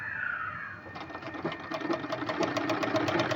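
A sewing machine stitches around a neckline in a circle. After a softer hum, a rapid, steady mechanical chatter starts about a second in and continues at close range.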